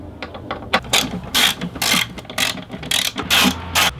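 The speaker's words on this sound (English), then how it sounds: "get rid of all these screws. And that's a size 3 with a socket wrench" Socket wrench ratcheting out screws on a K&N air intake of a Volkswagen GTI MK7, a series of quick, close clicking bursts repeating in an irregular rhythm.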